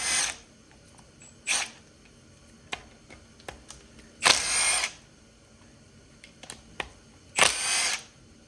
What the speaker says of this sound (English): So I'm gonna zap off this tensioner cover with a 10mm socket.